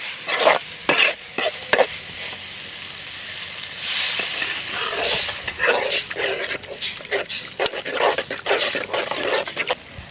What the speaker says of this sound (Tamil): நல்லா வதங்கிச்சு